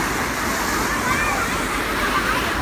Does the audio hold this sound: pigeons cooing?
no